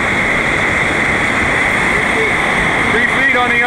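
Loud, steady rushing of big whitewater rapids on Little River at Teddy Bear Creek, running high, a continuous broadband roar filling the whole clip with faint voices near the end.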